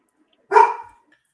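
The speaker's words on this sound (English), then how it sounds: "That's the dogs in the hood there." A single sharp dog bark rings out in a Florida neighborhood, one clear loud yelp that fades quickly into silence.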